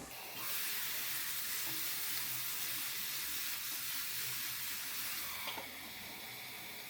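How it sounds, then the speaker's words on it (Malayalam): Chicken frying in a pan for a chicken salad, a steady broad sizzle and hiss holding close and even throughout, with no talking. "എന്നിട്ട് നമുക്ക് ചിക്കൻ പാകമാവുന്ന വരെ ഇടയ്ക്കിടയ്ക്ക് ഇളക്കിയിട്ട് നല്ലപോലെ ഫ്രൈ ആക്കി എടുക്കാം"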